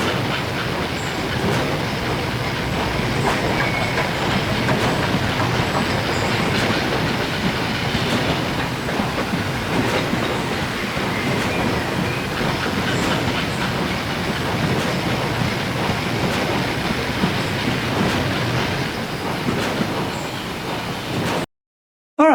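A train rolls past continuously, a dense rumble of carriages and wheels with clattering rail clicks and faint squeals, holding at a steady level for about twenty seconds before cutting to silence.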